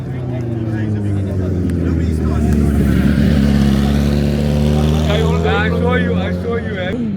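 A BMW 340i with the B58 engine droning steadily while driving, a low, even engine hum that swells slightly, heard close inside the cabin beneath someone talking throughout.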